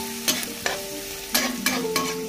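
Chillies frying for Maggi as a spoon scrapes and stirs them in a hot pan, giving several distinct clanking strokes over a continuous sizzle, with no voices.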